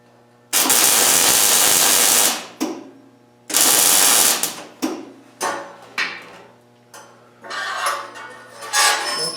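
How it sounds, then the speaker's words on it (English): Welding on metal grape vine elements in a workshop, two long loud crackling buzzes followed by several shorter bursts of arc sizzle, then a rougher rising run near the end. "Once again, I weld both sides."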